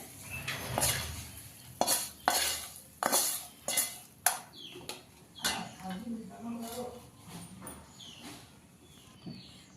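Spoon clinking and scraping against a metal pot while fried tempering powder is stirred into buttermilk, several sharp close knocks followed by softer stirring, with a voice talking.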